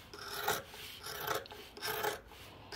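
Backpack fabric seam allowance is trimmed in three separate rasping cuts of about half a second each, close and fairly quiet, with short pauses between them and no talking.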